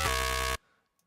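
A loud, buzzy synthesizer tone holds steady for about half a second, then cuts off abruptly into near silence.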